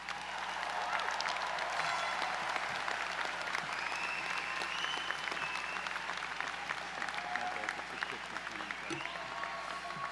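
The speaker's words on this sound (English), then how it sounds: "Let's give the graduates one last round of applause." Sustained applause from a commencement crowd for business-school graduates, a steady dense roar of clapping with faint crowd voices mixed in.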